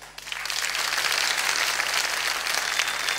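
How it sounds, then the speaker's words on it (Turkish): Sustained applause from a studio audience on a Turkish village-room television talk show, dense clapping that fills the whole stretch at steady volume with no talk over it. "Bir kendiniz alkışlar mısınız?"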